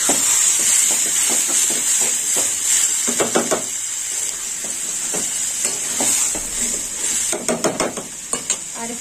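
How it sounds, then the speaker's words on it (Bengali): Water added to a pan of sautéed carrot and prawns, giving a steady hiss and sizzle with bursts of stirring and bubbling crackle near the pan. "গাজর চিংড়ি কষা হয়ে গেছে, এবার জল দিয়ে দেবো।"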